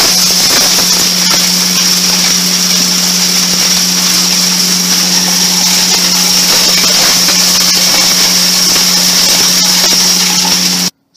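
Hammer mill grinding busted-up scrap transformers for clean copper, a loud, continuous roaring drone with a strong steady hum and a bright high whine, alone for about eleven seconds before it cuts off abruptly.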